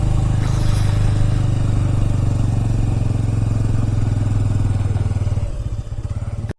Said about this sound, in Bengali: এখানে বাইকটা পার্কিং করতে হবে।